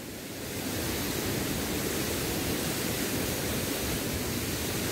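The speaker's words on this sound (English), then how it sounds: "this is the rainfall, waterfall" Steady, dense roar of a waterfall near Kathmandu, loud and continuous, rising in from a quieter start and holding without a break.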